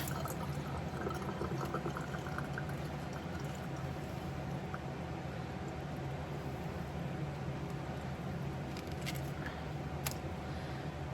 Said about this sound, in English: I just like to just run them under the faucet.